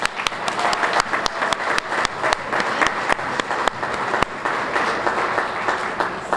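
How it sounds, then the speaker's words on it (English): A crowd claps steadily in a round of applause at a U.S. Navy medical team ceremony, dense and fairly loud, with a few sharper individual claps standing out. "Let's give you all a round of applause."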